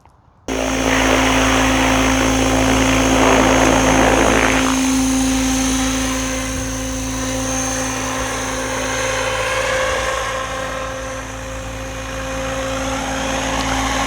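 An OMPHOBBY M5 radio-controlled model helicopter whirs steadily nearby in flight with a high-pitched motor whine and rotor hum, loud and continuous, its pitch rising and falling slightly.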